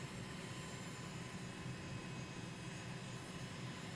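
Aircraft engine in Microsoft Flight Simulator during formation flying, a steady broadband drone held at constant level throughout, fairly quiet and without any speech.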